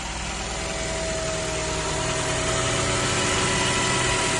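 A 2010 Nissan Qashqai engine idles as it warms up on a cold day, with a steady, even mechanical hum close by and no talk.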